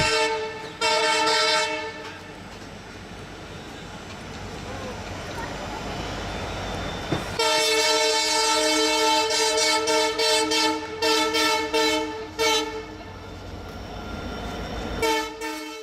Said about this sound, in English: On the Jotsu line, this train drives straight through packed snow